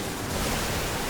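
The Waterfall move in the video game Pokémon Legends: Z-A makes a brief, loud rushing-water whoosh, a dense hiss lasting about a second with no voices.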